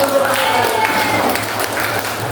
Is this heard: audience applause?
yes